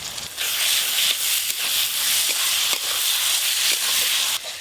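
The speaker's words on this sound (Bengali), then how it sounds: "আবারও বেশ কিছুক্ষণ ধরে মশলা কষতে থাকবো, যতক্ষণ না টমেটোগুলো গলে গলে যায়।" Spices and chopped tomato with salt and a splash of water sauté in a hot pan, giving a loud, steady sizzle broken by regular scraping strokes of a stirring spatula.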